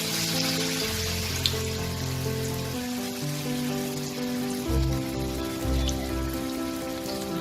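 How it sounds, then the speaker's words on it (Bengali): Battered stuffed ash gourd pieces fry in hot oil, giving a steady, close crackling sizzle throughout. "নিয়ে আমি এই গরম তেলের মধ্যে এগুলোকে ছেড়ে দেবো একে একে"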